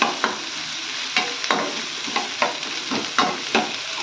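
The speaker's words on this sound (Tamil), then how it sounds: "வெங்காயம் பூண்டு நல்லா கொஞ்சம் இதனையே நல்லா வதக்கிக்கலாம்" Onion and garlic sauté in a hot pan for a Tamil ridge gourd stir-fry, a steady sizzle broken by repeated sharp scrapes and clinks of the stirring spoon, close up with no talking.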